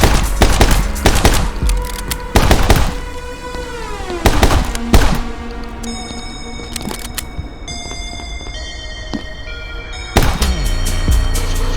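Dual-wielded guns fire in the game My Friend Pedro, with clusters of sharp, loud shots in bursts, some aimed two ways at once, over a steady game music backing with pauses between volleys.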